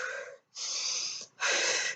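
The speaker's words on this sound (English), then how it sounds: "that's still quite slow breathing though" Three long breaths in a slow running-breathing drill, each a loud, close, airy rush separated by brief pauses.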